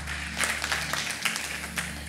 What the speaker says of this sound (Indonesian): Tepuk tangan buat Tuhan Allah kita.